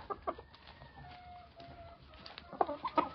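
Roosters peck at a bunch of pigweed, giving soft scattered clucks and short calls that build to a louder burst of clucking near the end, close by with no talk.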